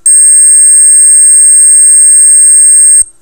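A loud, steady, piercing high-pitched 8 kHz test tone from a tone generator holds for about three seconds, then cuts off abruptly.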